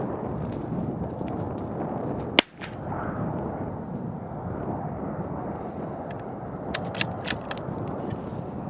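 A Ruger Precision Rimfire rifle fires a single sharp, close crack at an outdoor range, followed by a quieter stretch of steady background noise with faint clicks.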